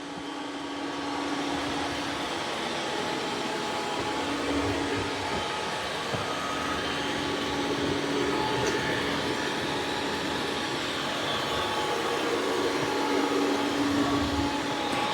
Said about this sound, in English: Now I've got it doing vacuuming and mopping at the same time.